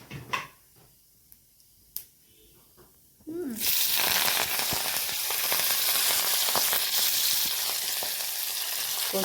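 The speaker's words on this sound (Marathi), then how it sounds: "तेल गरम झालं आहे. आपण मोहरी टाकणार आहोत," Mustard seeds and cumin dropped into hot oil for a Marathi kothimbir vadi tempering; after a few soft clicks, a loud, steady crackling sizzle bursts in and continues dense and close to the end.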